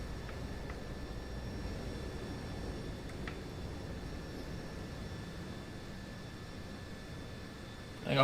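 F-16C jet engine idling while the fighter taxis in the DCS flight simulator, a steady broad rumble and hiss with faint high whine, unbroken and even throughout, ending in a brief click.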